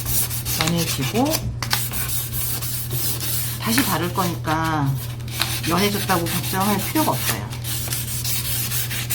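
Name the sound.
sanding oil-stained wood with paper sandpaper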